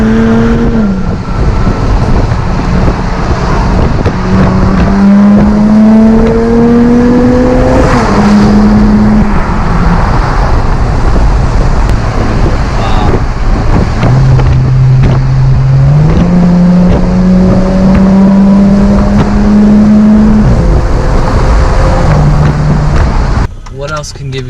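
A car engine revs hard while driving, climbing through gears with rising pitch, dropping at each shift and pulling again. It is loud and close, with wind and road noise throughout.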